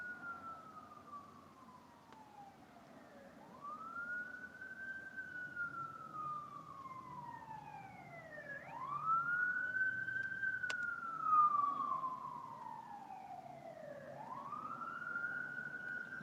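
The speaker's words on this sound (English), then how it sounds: "Another ambulance." Ambulance siren passing outside, a faint wailing tone rising and falling in slow sweeps, heard distantly through a room over low background rumble.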